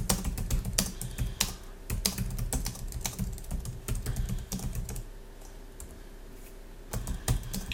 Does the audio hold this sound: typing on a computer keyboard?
yes